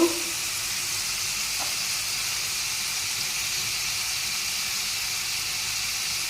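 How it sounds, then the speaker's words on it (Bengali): Masala frying for a chital fish curry gives off a steady, fairly loud sizzle and hiss that holds unbroken for the whole stretch, with no talking over it. "এবারে মশলাটা ভালো করে কষিয়ে নেব"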